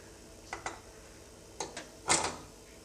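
Metal idli stand set down inside a pressure cooker for rava idli, heard as a few light clinks and knocks, two small pairs and then a louder clatter near the end, in a quiet kitchen.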